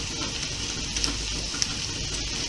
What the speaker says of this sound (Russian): Добавляем к луку и обжариваем все вместе.